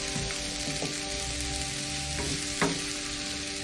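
Onions fry in a pan on a narrowboat stove, making a steady close sizzle with a few faint clicks and taps scattered through it and no voices.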